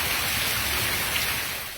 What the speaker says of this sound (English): The rain, as you can hear, falling hard this morning.